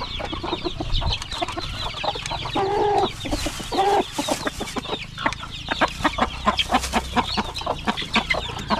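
Hens cluck and cackle loudly and close at a farmyard nesting area as one prepares to lay eggs, a busy run of repeated clucks with a few drawn-out calls, no talk.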